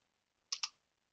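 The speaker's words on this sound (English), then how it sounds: "Type the command, after that hit enter." Two quick keystrokes on a computer keyboard while entering a command, crisp close clicks about a tenth of a second apart in an otherwise quiet room.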